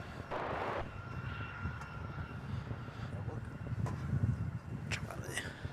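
An aircraft takes off from runway 27 at Melbourne Airport, a distant low jet-engine rumble building steadily while people talk nearby.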